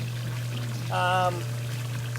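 Water from a hot tub waterfall pours steadily over a low constant hum, with a brief voice-like tonal sound partway through.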